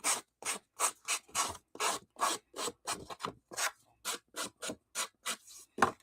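Photo paper is cut in a quick, even run of about twenty short rasping strokes. The strokes are close and crisp with brief gaps between them, and there is no talk.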